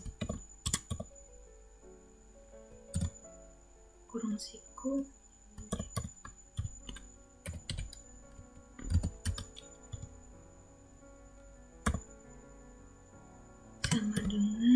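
Close, crisp clicking of a computer keyboard while JavaScript code is entered, bursts of keystrokes and separate sharp taps interleaved with a person speaking.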